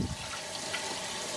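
Steady rush of tap water running over salmon in a kitchen sink, a continuous broadband wash at moderate level with no speech.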